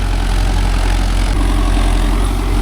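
A Mahindra Yuvo Tech Plus 585 4WD tractor's diesel engine labours steadily while pulling a 5-tine cultivator through dry soil in M2 gear, loud, close and continuous with no talk.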